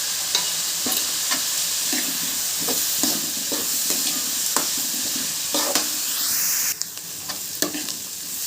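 Onion with chana dal and urad dal sautéing in a pan for bottle gourd kootu, a steady loud sizzle broken by regular spoon-stirring scrapes and knocks, with no talking.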